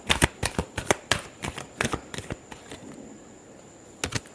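Tarot cards shuffled by hand in a steady run of crisp riffling snaps over about two seconds, then a pause and a final short burst, close and clear.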